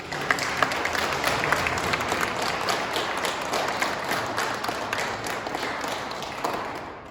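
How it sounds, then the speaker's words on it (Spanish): Church congregation applauding a family at their children's baptism, a dense, sustained round of many hands clapping, steady throughout and tapering slightly at the end. "Le damos un fuerte aplauso a nuestros amigos."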